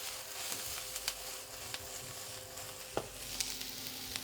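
Onions and carrots fry in a pan with a faint, steady sizzle, punctuated by light utensil clicks and scrapes as they are stirred around, close but quiet and free of speech.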